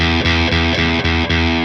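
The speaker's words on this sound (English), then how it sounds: "That is the minimum distortion level." Electric guitar through a distortion pedal set to its minimum distortion level, a repeated chugging chord with steady rhythmic attacks, loud and alone with a mildly gritty crunch.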